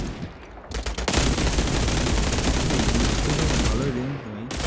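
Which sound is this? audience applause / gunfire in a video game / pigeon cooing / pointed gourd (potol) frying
gunfire in a video game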